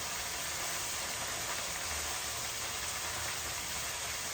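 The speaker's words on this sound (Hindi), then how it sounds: "बारिश ही नहीं रुक रही" Steady rain falls on an outdoor surface, making a constant broadband hiss with a faint low rumble beneath, even and unbroken, with no voices.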